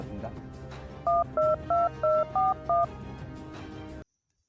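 A phone number is dialed, six distinct keypad tones beeping in quick even succession over a faint background hum before the sound cuts off.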